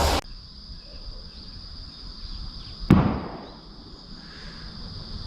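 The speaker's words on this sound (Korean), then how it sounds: "이 폭약 소리 때문에 약간 오디오에 조금 듣기가 거북한 점이 있겠는데요" A single sharp explosive blast, set off to scare wild boars in farmland, booms and echoes outdoors over a steady drone of insects, after a brief burst right at the start.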